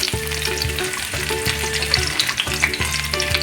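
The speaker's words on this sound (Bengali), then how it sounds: "ফুলকপিগুলোকে একটু হলুদ আর সামান্য কাশ্মীরি লঙ্কাগুলো মাখিয়ে নিয়ে ভাজছি" Steady sizzling of cauliflower coated in turmeric and Kashmiri chilli frying in a pan, with a repeating tonal hum pulsing underneath and occasional crackles; close and fairly loud, no talking.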